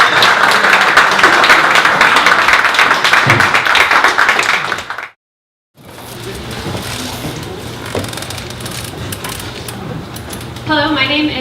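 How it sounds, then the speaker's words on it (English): Audience applause at a 1 Million Cups Dallas startup pitch event, a dense loud burst of clapping that cuts out abruptly, then a quieter room with scattered claps and murmur before a short tonal sound at the end. "we will welcome our next presenter again with a round of applause"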